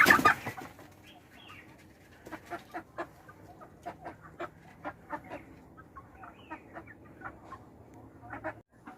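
Black naked-neck chickens cluck repeatedly in short, scattered bursts, some closer and some farther off, with no talking.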